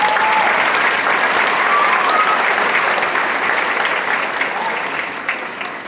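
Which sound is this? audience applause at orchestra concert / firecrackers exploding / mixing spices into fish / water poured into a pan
audience applause at orchestra concert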